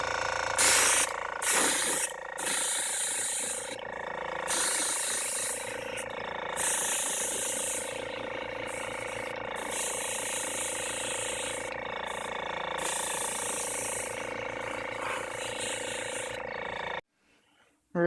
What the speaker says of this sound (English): I just have some regular old red and the airbrush, and I'm just going to start spraying this down.